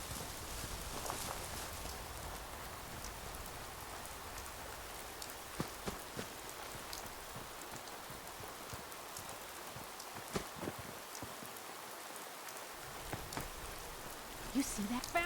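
Steady rain from the Fallout 4 game world, a soft continuous patter of drops on surfaces at low volume, with occasional faint taps and footsteps mixed in.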